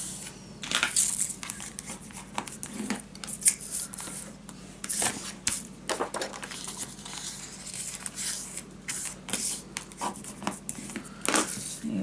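Scored cardstock being folded by hand for a mini scrapbook album: a run of crisp, close crinkling, creasing and rustling bursts in an uneven rhythm, with no voices.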